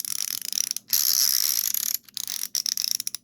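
Close, crisp ratchet clicking from a Husky 12-in-1 ratcheting screwdriver, coming in quick bursts with a short smoother whirring stretch in the middle.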